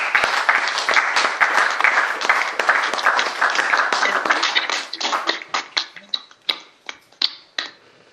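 A church congregation applauding during a service, dense close clapping that thins out into a few scattered claps before stopping.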